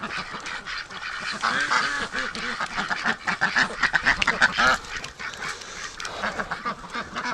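A Muscovy drake calls repeatedly in loud, close, raspy bursts with a steady rhythm, the cries continuing throughout without any talk.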